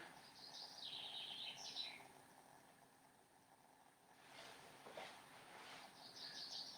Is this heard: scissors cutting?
no